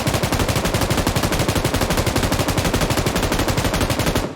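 An M249 light machine gun in PUBG Mobile fires one long sustained burst of rapid, evenly spaced loud shots, heard alone and cutting off at the end.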